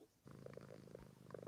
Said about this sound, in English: I can hear your cat purring, Cat.